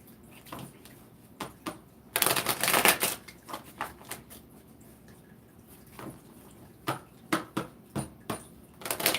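Tarot cards being shuffled, with soft riffling and flicking bursts scattered throughout, including a longer, denser riffle partway through, close and fairly quiet with no talking.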